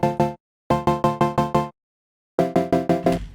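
Bright Serum synth plucks in quick bursts of notes separated by short gaps, widened with a Hyper/Dimension effect, wide and upfront, with a soft noisy tail at the end.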